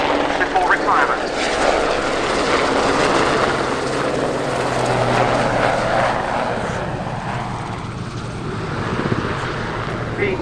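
A Westland Sea King military helicopter performs its final public flying display at Yeovilton Air Day, its rotor and engine roar loud and sustained as it passes overhead, with a commentator's voice talking over it.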